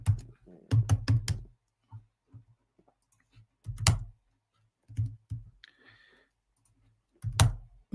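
Typing on a computer keyboard, irregular clusters of sharp clicks and taps close to the microphone, separated by quiet gaps, with no talking.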